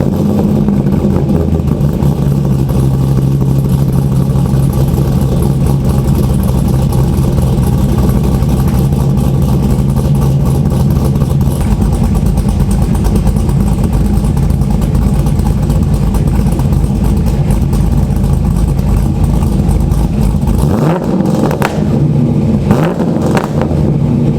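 A modified C6 Corvette engine rumbles loudly and steadily at close range, then gives several sharp revving blips toward the end, with no voices.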